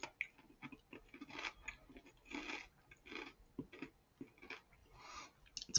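Close, quiet chewing of scallop butter and seaweed rice crackers, with irregular crunching bursts and soft mouth sounds repeating through the stretch without speech.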